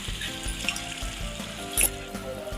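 Ground spice paste frying in a pan for a fish curry, a close steady sizzle with soft stirring thumps and a brief louder crackle near the end, no voices.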